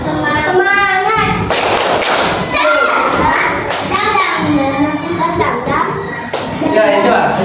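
Classroom of children performing a rhythmic clapping chant, tepuk semangat, with sharp hand claps and thumps mixed among young voices chanting and speaking, lively and close throughout.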